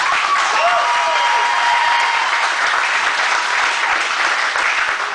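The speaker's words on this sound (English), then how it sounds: "Give these competitors a round of applause." Sustained audience applause fills a Muay Thai fight night venue, dense steady clapping with a faint crowd murmur throughout.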